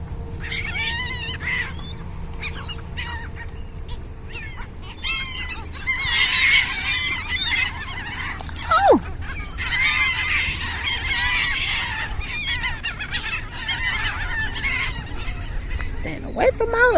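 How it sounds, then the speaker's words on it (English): Geese and other birds crowd and honk while being fed bread outdoors, a busy, loud chorus of overlapping calls that goes on throughout, with people talking nearby. "I don't want none of these birds to attack me."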